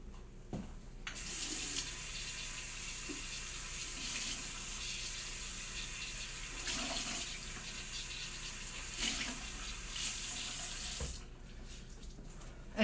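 Warm tap water runs steadily into a sink during face washing, a soft continuous hiss with small splashes that stops abruptly near the end.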